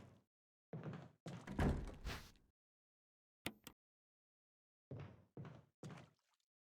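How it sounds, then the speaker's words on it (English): In Resident Evil HD Remaster, a door noise sounds as a zombie spawns: a run of dull wooden thunks and knocks in separate clusters, with short silences between them. "And then a zombie actually spawns, because that's what that door noise was."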